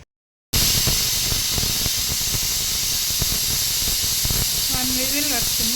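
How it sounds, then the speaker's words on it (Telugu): A pressure cooker of mutton curry with raw mango lets off its whistle, a loud, steady rush of hissing steam that starts abruptly and runs on without a break, with a faint voice near the end. "విజిల్ వస్తుంది"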